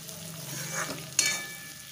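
Wild bitter gourd (kartule) frying in oil with masala, giving a steady soft sizzle with a sharper crackle and stirring scrape partway through, close and alone.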